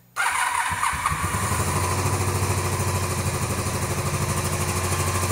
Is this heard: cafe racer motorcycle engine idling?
yes